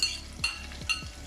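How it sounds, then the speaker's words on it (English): Roughly diced large onion dropped into a hot oiled pan for a Durban-style prawn curry, giving a steady close sizzle with a few stirring scrapes and light clinks against the pan, no talking. "So now we're going to be adding our onions."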